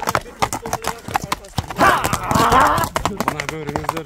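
A horse called a hurricane, just sold, clip-clops its hooves in close, rhythmic beats over people's talk, with a loud burst of noise in the middle.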